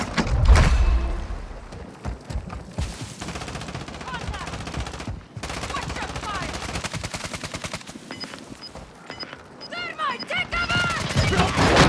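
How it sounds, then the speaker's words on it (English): Gunfire and explosions in the video game Call of Duty Modern Warfare II, with an opening blast, then rapid, sustained bursts of automatic shots, loud and close, while game voices talk over parts of it. "Throwing flash grenade!"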